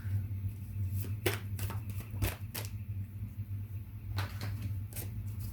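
Tarot cards shuffled during a pick-a-card reading, a series of sharp riffling bursts and slaps in irregular clusters over a low steady hum, close and fairly quiet.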